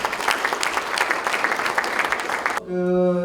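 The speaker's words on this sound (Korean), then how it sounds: "이해찬 당대표님께 다시 한번 큰 박수 부탁드립니다" An audience of local government heads at a Democratic Party training session gives a burst of applause for the party leader, dense clapping that cuts off abruptly into a sustained musical tone.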